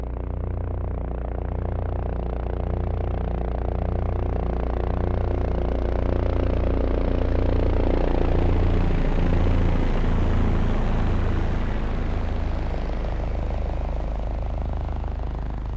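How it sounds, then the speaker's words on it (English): Bell 407 helicopter heard from directly underneath in a high blade-vortex-interaction condition, a loud continuous rotor roar with rapid rhythmic blade slap throughout, steady and close. "So I'm going to start with the high BVI noise in the center underneath the aircraft."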